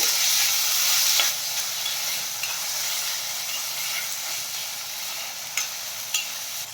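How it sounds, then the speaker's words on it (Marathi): Tomatoes and onion sauté in hot oil for a kurdai bhaji, a bright continuous sizzle with occasional soft scrapes of stirring, close and fairly loud with no talk. "तर आता आपण यामध्ये टाकूयात टोमॅटो आणि टोमॅटो मऊ होईपर्यंत तेलामध्ये छान असं परतून घेऊया"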